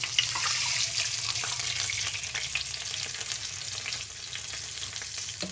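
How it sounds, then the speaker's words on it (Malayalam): Tomato and ginger paste hits a hot pan for a brinjal curry, raising a loud, steady sizzle that holds throughout with faint stirring scrapes, no voices. "പിന്നെ നമ്മൾ അരച്ച് വെച്ച ആ ടൊമാറ്റോ ഇഞ്ചി പേസ്റ്റ് അതിലേക്ക് ഒഴിച്ച് കൊടുക്കാം."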